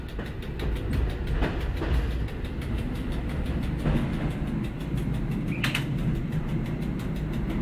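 EN57 electric multiple unit running between Ubocze and Olszyna Lubańska, heard from inside the cab: a constant low rumble with rhythmic clickety-clack of wheels over rail joints and a sharp squeal or clank partway through.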